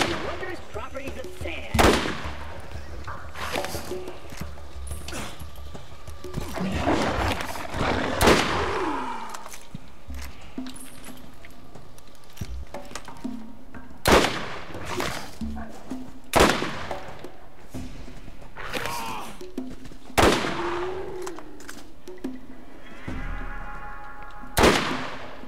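Gunfire from a weapon in Borderlands played in third person, sharp shots at irregular intervals among game noise and music, with a person talking over parts of it.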